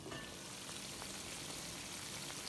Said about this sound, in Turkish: Kaynamaya başladı. Şimdi altını kısıyorum ve zaman zaman kontrol ederek pişirmeye başlıyorum.